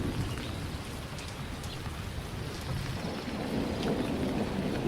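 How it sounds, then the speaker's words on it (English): A storm sound effect with howling wind, lightning strikes and hail: a steady roar of heavy rain and rumbling thunder, loud and continuous, with occasional sharper cracks and no talking. "Howling winds, vicious lightning strikes, and a devastating hailstorm."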